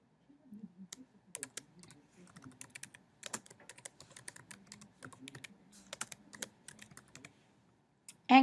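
A name being typed on a computer keyboard, a long run of crisp, close keystrokes at an uneven pace in a quiet room, ending with a louder click.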